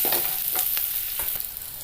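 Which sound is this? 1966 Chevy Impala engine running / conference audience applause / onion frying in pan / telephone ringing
onion frying in pan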